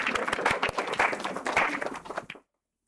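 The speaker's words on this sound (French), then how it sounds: "On applaudit Benjamin." Audience applauding for Benjamin at a church women's gathering, a brief burst of dense, close clapping that runs about two seconds and then cuts off abruptly into silence.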